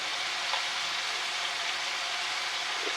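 Beef browning in a pan before braising, a dense steady sizzle that stays even and close for the whole stretch, with no voices over it.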